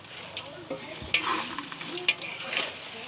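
Food frying in a pan while being stirred, a low steady sizzle broken by a few sharp scraping and tapping strokes of a utensil, close up with no talk.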